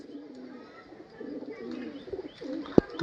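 Pakistani-breed Kamagar pigeons coo softly in low, rolling phrases, repeated in a quiet rhythm, with a sharp brief knock near the end.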